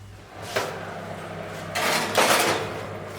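An oven door opening and closing as a carrot cake goes in, two whooshing, sliding bursts about a second apart over a low kitchen hum, with no talking.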